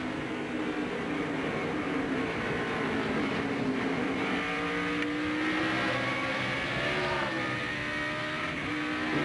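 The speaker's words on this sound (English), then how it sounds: "He'll also use a clutch when he downshifts." A race car engine revs steadily through a heel-and-toe downshift, a continuous loud droning roar with rising and falling pitch sweeps.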